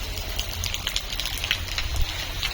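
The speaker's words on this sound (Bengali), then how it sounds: "বৃষ্টি হচ্ছে অনেকটা।" Heavy rain comes down nearby in a brief burst of close, crackling patter and hiss, with no talking.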